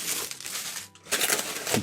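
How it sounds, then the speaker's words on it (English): Red cellophane wrap being unwrapped from Funko Pop figures, close loud crinkling in two bursts with a brief pause between. "this is just red cello wrap, it looks like"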